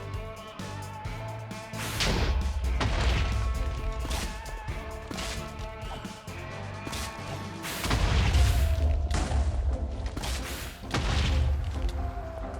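Explosions from the Wither boss fight in Minecraft: repeated booming blasts and crashes roll on steadily at high volume, with a few stronger hits near the end, alone with no voices.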